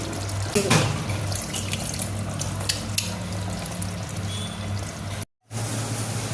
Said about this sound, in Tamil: கொஞ்சமாக புளி எடுத்து ஊற வச்சு அதை கரைச்சி ஊற்றிக்கலாம்